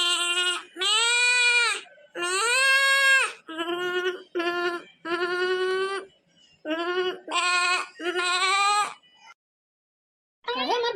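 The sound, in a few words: goat bleating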